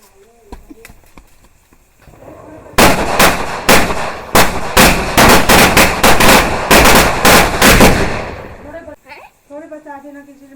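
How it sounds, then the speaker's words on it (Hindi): Diwali firecrackers going off outdoors, a rapid string of loud, sharp cracks lasting several seconds, with someone talking briefly before and after the burst. "अब मैं फोड़ती हूँ पटाखे"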